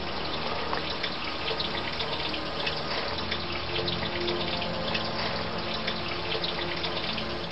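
Water from the Rehbach stream, running through an autumn forest, pours steadily into a shaft, making a continuous close rushing gush with no pauses.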